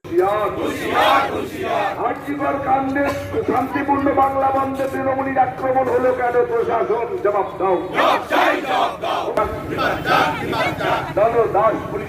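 Protesters chant loudly in unison at a BJP blockade of Krishnanagar Kotwali police station, with a road blocked by burning tyres; a dense crowd roar of rhythmic shouted slogans runs continuously and close throughout.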